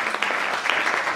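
A church congregation clapping and cheering at a celebration service, a loud, dense, steady wash of applause filling the space.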